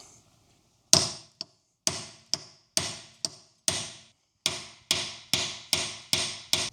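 Sharp metallic hammer strikes on a wheel nut of a crashed Lotus Exige S, about a dozen, in an uneven rhythm that quickens toward the end, each blow ringing briefly.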